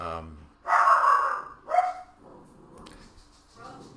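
Dogs bark in a loud burst of several overlapping barks, then a shorter second bout, heard close by indoors before things settle into quieter background noise.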